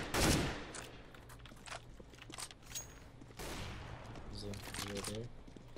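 Gunfire from the video game CS:GO comes in rapid bursts of sharp shots, mixed with footsteps and distant reports, while players' voices murmur faintly beneath the action.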